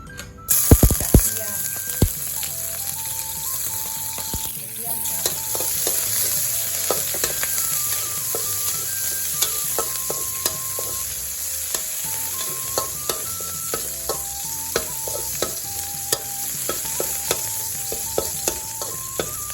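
Garlic frying in vegetable oil in a wok as the base for a Thai bamboo shoot and red curry stir-fry with pork, a constant loud sizzle broken by frequent sharp spatula scrapes and clinks against the pan.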